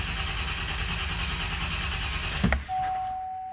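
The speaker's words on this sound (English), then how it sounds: "The cranking cadence sounded really good to me." A 2003 Chevrolet Silverado with the 8.1 engine, misfiring and running lean, cranks at wide-open throttle in clear flood mode with a steady, even rhythmic churn. It stops abruptly after about two and a half seconds, leaving a faint high tone.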